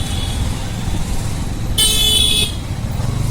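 Low engine rumble of road traffic, with one sustained car horn blaring for under a second in the middle, fairly close.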